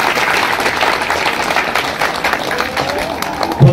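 Audience at an outdoor religious discourse on cow worship clapping, a scattered, fairly dense burst of applause from a crowd, steady for a few seconds.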